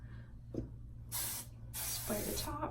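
Hairspray mists over the top of long, loosely curled hair in two sustained hissing bursts, the second longer than the first, with a soft low room hum underneath and no talking.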